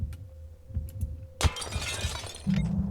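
Window glass shatters in the Manhunt video game: a sudden sharp crash, followed by a tinkling spray of fragments over low rhythmic background thumps. A second, smaller burst of debris comes near the end.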